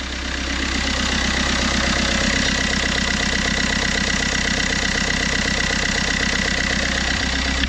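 A Fiat Qubo 1.3 Multijet diesel engine idling roughly, close and loud, with a steady rhythmic clatter that continues unchanged throughout.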